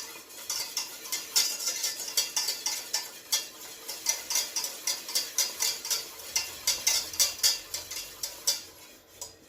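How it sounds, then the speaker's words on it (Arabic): A spoon stirring chocolate cake batter in a bowl: quick, repeated clinking and scraping strokes in a steady rhythm, heard close and alone for several seconds. "نحركو مزيان."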